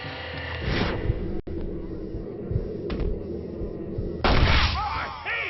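Gunfire in the Western video game Red Dead Redemption, a sharp shot bursting out amid a busy, noisy game soundscape, with a louder crack near the end.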